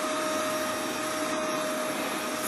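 Heavy-duty 1800-watt vacuum cleaner with a brush roll running steadily, a loud, close, continuous whine and roar with a constant tone, with no voices during the short stretch.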